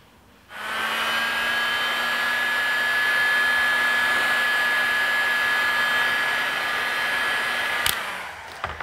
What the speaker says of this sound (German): Mit einem Föhn macht der Gitarrenbauer die Randeinlage geschmeidig.